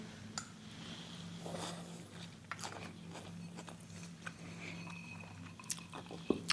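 Crunchy bites of an Italian grinder salad with salami, garbanzo beans, croutons, olives and onions, a steady run of close, soft chewing and crunching sounds over a low background hum.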